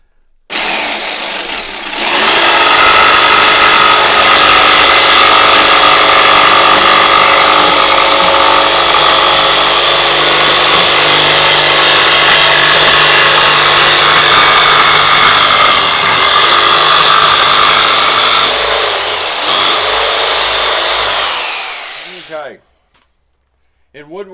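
A power tool roars steadily for about twenty seconds, grinding and rasping as it rough cuts cutting board wood up close, then winds down and stops.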